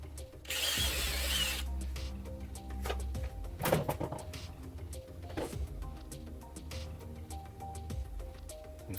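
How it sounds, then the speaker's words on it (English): A power drill bores a hole through a mask face plate, a short burst of loud whirring followed by rattling, clicking handling noises and intermittent mechanical buzzing up close. "Drill a hole in the center."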